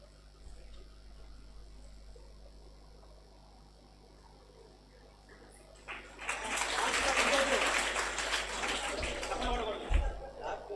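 Quiet room tone in a prayer house during a Bible quiz, then around the midpoint a burst of many hands clapping breaks out and keeps going steadily, fairly close, to the end.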